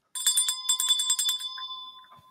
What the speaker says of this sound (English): please ringy-ding that bell